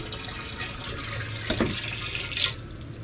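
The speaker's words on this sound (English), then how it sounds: "I'm adding the water to the base of my Tower Garden since I got the pH balance just right." Water splashes and trickles as it is poured into the base reservoir of a Tower Garden, a close, steady rush with a louder gush near the end.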